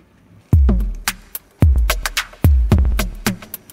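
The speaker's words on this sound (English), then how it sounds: "can see the local goods train going through and past the war camp." Rhythmic clicking and clacking of small wheels over rail joints, repeating in quick groups as a model goods train rolls steadily past close by.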